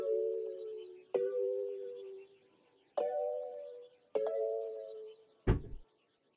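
A bell-like sampled sound played on a MIDI keyboard in FL Studio, struck in four separate notes at an even pace with sustained decaying tones, followed by a brief low thump at the end.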